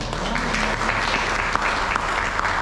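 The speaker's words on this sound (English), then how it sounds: "Let's give it away with a big round of applause for Thomas Garvey, Sonia Manchanda, and the World Design Organization Hour." An audience at a design event in a barn applauds, a dense, steady wash of many hands clapping throughout, fairly loud, with a faint voice underneath.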